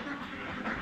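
A brief burst of duck quacking at a duck farm, a few overlapping calls that are fairly faint.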